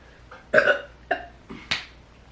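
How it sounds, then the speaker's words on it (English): A few short, throaty burps in quick succession, close and fairly loud, with brief pauses between them and no talking. "Excuse me, y'all know I'm about to burp."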